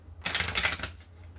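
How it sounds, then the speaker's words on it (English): A deck of cards is shuffled in one quick riffle burst that lasts under a second, close and fairly loud, then trails into quiet room tone. "Difficult shuffle right away."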